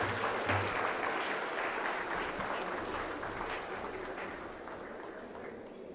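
Audience applause at the 2021 Nairobi Legal Awards ceremony, a full, steady roar of many hands clapping that fades slowly over six seconds.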